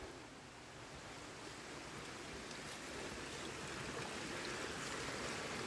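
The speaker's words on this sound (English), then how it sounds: "This is the top of that waterfall." Water rushing at the top of a waterfall beside an old tunnel: a steady, soft, broadband flow that swells slightly toward the end, with no voices.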